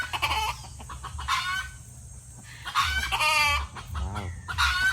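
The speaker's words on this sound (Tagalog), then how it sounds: "Naputak yung inahin." A hen clucks repeatedly in short bursts, fairly close, with squawky rising calls between quieter gaps.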